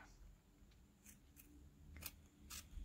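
Old scissors snip through craft material close up, with about five short crisp cuts at uneven intervals over a quiet room hum.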